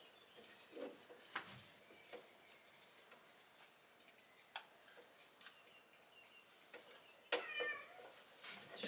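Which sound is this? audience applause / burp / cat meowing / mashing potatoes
cat meowing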